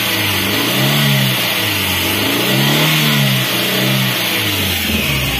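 Suzuki APV car engine, fitted with independent ignition coils, revving repeatedly in loud close-up bursts that rise and fall over a steady idle.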